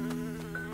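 A fly buzzes close up in the game Snufkin: Melody of Moominvalley, a steady droning whine with a wavering pitch over a brief moment, heard alone.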